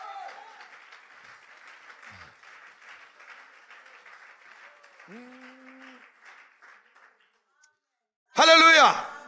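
A church congregation breaks into a short, loud burst of applause and acclaiming cheers near the end, after a stretch of quieter murmuring and voices.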